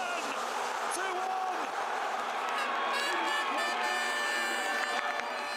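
Thousands of England football fans in Peterborough cheer during the 2010 World Cup in South Africa, a dense roaring crowd with horn-like tones and whistles, and voices mixed through the din.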